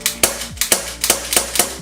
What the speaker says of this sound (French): la queue détente va directement armer le marteau et tirer